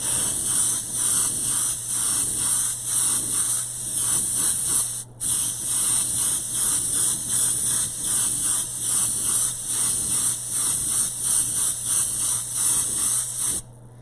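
Black primer sprayed in a heavier coat onto a substrate, a steady, loud continuous hiss running almost without a break, with one short cut near the middle and a brief drop at the end.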